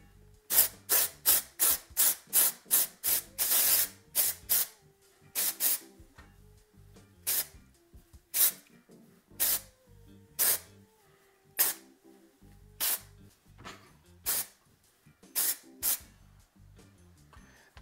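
High Beams intense temporary copper hair color is sprayed onto microlocs in sharp, close hissing bursts, first in a rapid run of short sprays and then in spaced single blasts.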